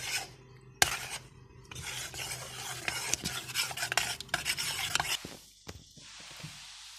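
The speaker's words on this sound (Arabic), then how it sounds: "ندوب النشا في اللبن اول حاجه هنعملها" Starch being stirred into cold milk with a spoon in a pot, close scraping and clinking strokes in quick bursts that taper off into quieter rustling near the end, no voices.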